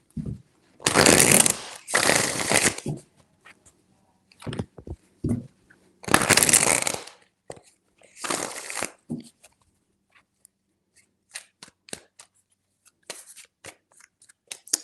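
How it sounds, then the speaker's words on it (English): Tarot cards are shuffled in several close, crisp riffling bursts separated by pauses, with scattered light taps and flicks of the deck between them. "Three shuffles."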